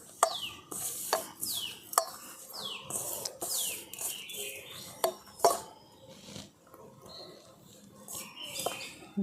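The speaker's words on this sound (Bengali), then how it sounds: "হাত দিয়ে এরকম করে খুব ভালো করে মিশিয়ে নিতে হবে।" Flour dough for badam nimki is rubbed and mixed by hand in a bowl, giving soft scraping and rustling with occasional sharp knocks against the vessel. Bird chirps sound in the background, and a voice speaks intermittently.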